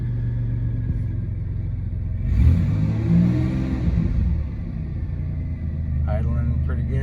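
A 31-year-old GM car's engine runs with a steady low rumble, briefly revving louder midway before settling back to a smooth idle, with no one talking.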